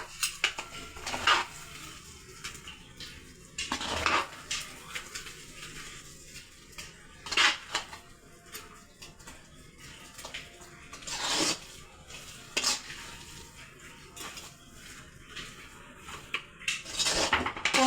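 A utensil stirs and scrapes shark fish puttu in a metal pan, making irregular clinks and scrapes, some louder than others, with no talking.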